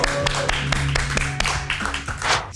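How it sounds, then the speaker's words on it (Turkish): A studio audience claps for an arriving guest on a Turkish late-night talk show, a brief burst of applause with scattered hand taps over steady background music. "Alkışlayalım bir Tibet Bey'i"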